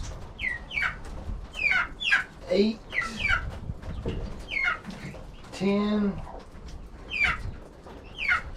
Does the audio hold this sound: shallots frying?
no